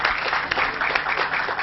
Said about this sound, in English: a big round of applause to them.